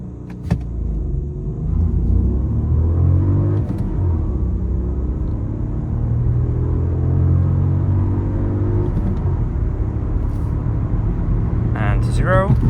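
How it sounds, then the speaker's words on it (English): A Škoda Fabia 1.0 TSI 81 kW accelerates hard toward 100 km/h, its engine rumble climbing through the gears from inside the cabin, steady and prominent, with a brief clunk near the start. "now let's see how fast the car can go to 100 and then to 0"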